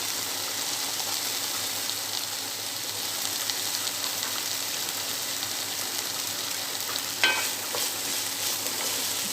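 Bitter gourd and potato pieces frying in a pan with a little turmeric, a steady close sizzle with soft scraping stirs and one brief louder clatter near the end.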